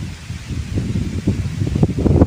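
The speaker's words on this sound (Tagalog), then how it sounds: "ito mahangin at maulan-ulan" Steady gusts of wind shake and rustle leaves in a continuous, noisy wash with no voices.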